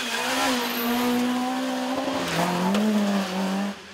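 Rally cars drive past a stage in France, engines droning loudly and close with a shifting pitch as one car sweeps by, with no talking.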